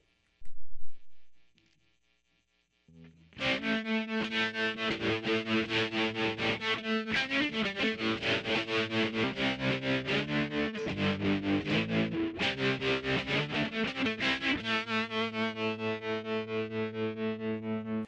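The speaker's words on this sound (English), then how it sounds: "Pressing it again will increase the tremolo effect" A Vox amPlug 2 AC30 headphone amp plays an electric guitar chord with tremolo, a rapid, even pulsing wobble in volume, sustained for many seconds after a brief opening strum.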